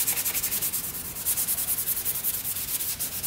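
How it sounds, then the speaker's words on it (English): Rapid rhythmic scrubbing as a green abrasive pad with WD-40 rubs mold and grime off a cheap used dirt bike, quick back-and-forth strokes, close and steady. "green pad, WD-40. See if we can take off some of this stuff"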